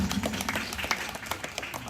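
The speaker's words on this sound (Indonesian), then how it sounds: "mari kita memberikan tepuk tangan" Audience at a Toraja Christmas celebration claps together, a lively, dense run of individual hand claps close by and fairly loud, continuing without pause.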